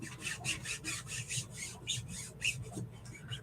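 A Chalk Couture stencil being rubbed smooth by hand, making a close, steady run of rhythmic scraping strokes, about three per second, with no voices.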